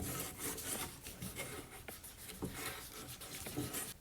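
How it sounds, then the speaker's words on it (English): A small cleaning patch wetted with denatured alcohol rubbed against the threads of an upper receiver to clear old grease, a faint, close, steady scrubbing rasp. "I just do this again with the denatured alcohol and a small patch."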